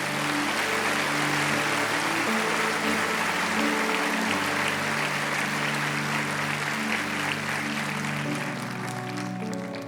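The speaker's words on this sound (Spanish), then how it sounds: "Dale un aplauso a Jesús." A church congregation applauds for Jesus, a dense, loud, continuous wash of clapping that fills the room and holds steady for about ten seconds with no speech.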